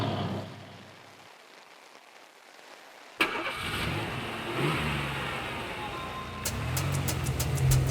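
A car engine cranks and catches with a sharp start after a quiet stretch, then idles and revs in a rough, continuous rumble, with a few clicking sounds near the end and no voices.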